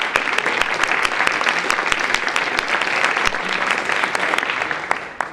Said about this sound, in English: if our team could stand up and give us a round of applause